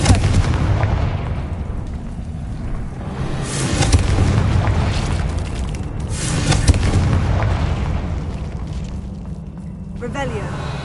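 Confringo spell blasts in the video game Hogwarts Legacy, booming fiery explosions that roll on continuously with heavy low rumble and a couple of sharper bursts, loud and close.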